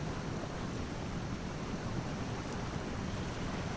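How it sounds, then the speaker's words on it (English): Water noise from a small Khan Lo4F truck pushing through a deep river in SnowRunner forms a steady, dense rushing churn with a low rumble, continuous and fairly loud, with no talking. "They just really do an amazing job of getting across this river."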